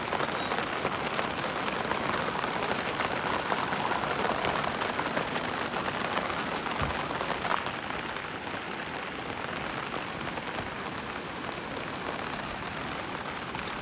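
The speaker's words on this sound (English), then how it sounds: "And here comes the rain." Heavy rain pours steadily on a riverside campsite in a dense, even hiss of countless drops hitting surfaces, loud and unbroken throughout with no voices.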